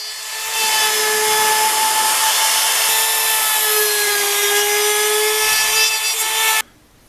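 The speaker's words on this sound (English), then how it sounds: "I want to router the edges to make it smooth to grab" Power router shaping and smoothing the edges of a wooden hatchet handle, a loud, close, steady high-pitched whine with cutting noise lasting several seconds before cutting off abruptly.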